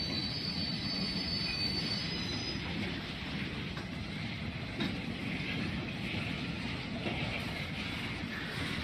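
A train rumbles past with a steady low roar and rail noise, and a faint high wheel squeal fades early on, fairly loud throughout with no talk.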